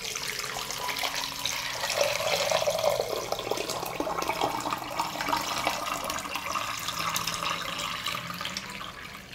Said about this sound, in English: Pour hot water into the pot up to the height of the lid.